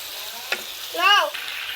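Broth splashes into a pan of sizzling hilsa fish curry with flat beans and potatoes, a short, close burst of frying hiss that swells briefly, with a voice heard over it.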